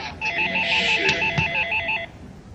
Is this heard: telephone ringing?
yes